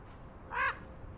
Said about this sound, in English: Black crows.